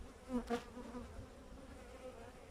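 Faint buzzing of honeybees, including drones, hums softly near a hive, a couple of louder passes standing out briefly at the start.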